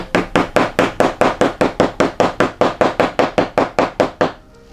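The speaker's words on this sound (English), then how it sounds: "So you now use your hammer to just" A hammer strikes fittings on a faux leather bag in about eighteen steady, evenly spaced blows, close and loud, then stops, leaving a faint room tone.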